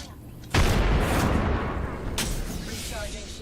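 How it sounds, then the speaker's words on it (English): A frag grenade explodes in a video game, a sudden loud, close blast that rolls into a sustained rumbling roar with a second burst of crackle partway through. "Throwing frag."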